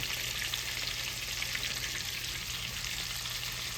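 Breadcrumb-coated shrimp deep frying in oil at a little over 350 degrees give off a steady, dense sizzle and hiss that stays fairly even throughout, close by with no talking.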